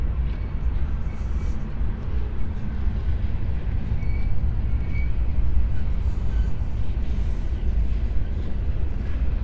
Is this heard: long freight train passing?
yes